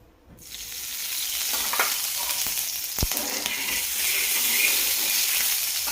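Carrot and beetroot ghavan batter hits a hot pan and breaks into a loud, steady sizzle after a quiet start. A single sharp knock sounds partway through, and there is no speech.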